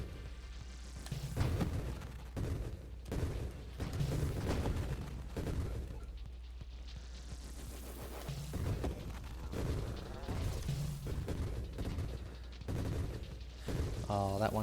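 Grenade explosions and rapid gunfire in the space shooter Nova Drift, dense bursts of booms and shots layered over a steady musical drone, moderately loud and continuous throughout.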